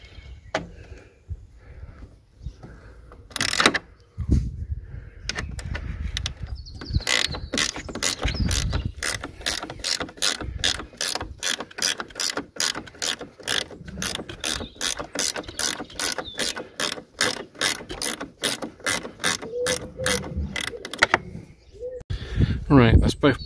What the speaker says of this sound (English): let's go and get my spanner and get those two bolts out.